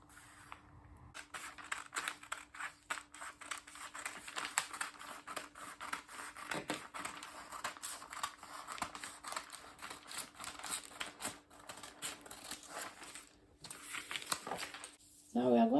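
Scissors cutting fabric for a high-low top: a long run of soft, quick snipping and crunching strokes close by, with brief pauses, ending in louder handling noise.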